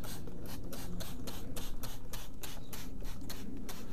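Rotten car parts from a crashed Fiat 500 are scrubbed by hand in quick repeated strokes, a rhythmic rasping scratch that is close and rough, with no talk.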